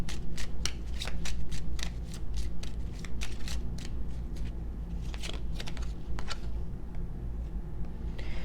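Oracle cards are shuffled by hand in quick rhythmic riffles, the crisp flutters repeating close up over a low steady background hum.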